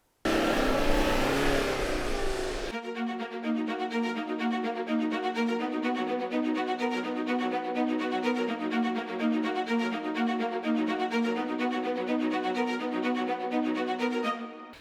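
Toyota Prado engine working hard while driving on sand dunes, a loud burst of rough noise giving way to a steady, droning engine note that holds for over ten seconds.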